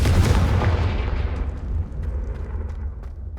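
Confringo blasting spell in Hogwarts Legacy bursts as a single deep booming explosion at the start, its low rumble decaying with scattered crackles over the next few seconds.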